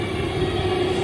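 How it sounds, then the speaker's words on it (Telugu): A pink line metro train in Bangalore pulls into the station with a loud, steady rolling rumble and a faint high whine, close by and filling the whole moment. "వస్తుంది పింక్ కలర్ ట్రైన్"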